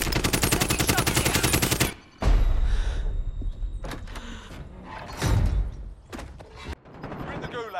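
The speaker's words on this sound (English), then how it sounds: "Taking shots here!" Gunfire in the video game Warzone, a rapid machine-gun burst for the first two seconds followed by scattered loud shots and impacts. The sounds are close and heavy, mixed with other game noise and a voice.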